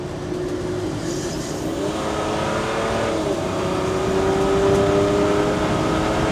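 A Land Rover Defender engine drones steadily from inside the moving vehicle, its pitch rising and shifting gradually as it accelerates, with constant road rumble beneath.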